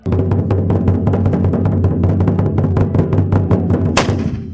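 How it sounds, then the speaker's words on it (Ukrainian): Rapid, evenly spaced heavy cannon booms fire one after another for several seconds, loud and close, ending with one sharper blast, at an Ivana Kupala celebration. "У боротьбі з потойбічним вони використовують гармати."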